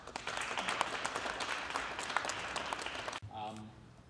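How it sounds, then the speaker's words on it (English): A round of applause for Zlatko and Muzik at a food drive event, a dense burst of clapping that cuts off abruptly, followed by a voice speaking. "I would also ask for another round of applause for Zlatko and Muzik"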